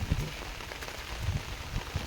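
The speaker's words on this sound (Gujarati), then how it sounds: "જે વરસાદ કન્ટિન્યુ ચાલુ જ છે." Continuous rain falls on a cotton farm, a soft, steady patter on surfaces with a few slightly louder drop splashes, fairly quiet and with no talking.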